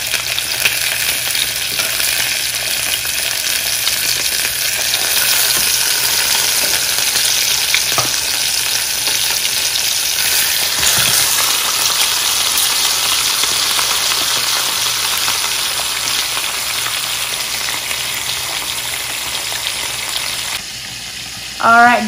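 Tilapia fries in hot oil, a loud, dense, continuous crackling sizzle close up that holds for about twenty seconds before easing, with a short scrape or clatter at the very end.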